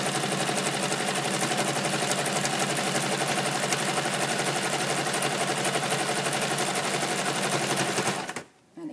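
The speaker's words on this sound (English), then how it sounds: "lift the presser foot, turn the fabric round and start sewing again." A sewing machine stitches a patch onto a bag, running steadily with a fast, even mechanical chatter for about eight seconds before stopping abruptly, followed by a brief faint clunk.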